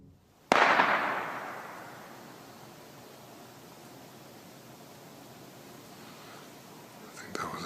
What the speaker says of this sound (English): I think that was a gunshot.